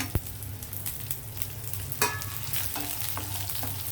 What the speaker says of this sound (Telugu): వీటితో పాటు ఇది కూడా వేగుతుంది ఇవన్నీ ఒకేసారి వేసేద్దాం